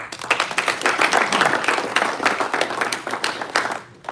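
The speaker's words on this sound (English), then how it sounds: "So one more round of applause for the sports staff." Enthusiastic audience applause for the sports staff at a post-graduate banquet, loud close clapping with sharp individual claps standing out, sustained throughout before fading quickly at the end.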